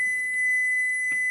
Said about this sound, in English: Yep, that was my timer.